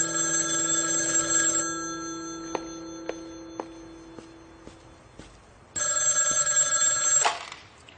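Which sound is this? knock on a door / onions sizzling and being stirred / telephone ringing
telephone ringing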